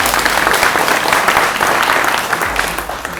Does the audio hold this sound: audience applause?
yes